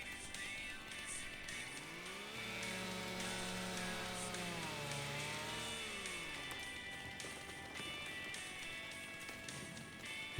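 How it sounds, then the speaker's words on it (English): Chainsaw in Farming Simulator 25 runs steadily, its engine pitch rising as it revs up, holding a high whine through the middle and dropping back, with a constant mechanical drone throughout and no talking. "Chainsaw out."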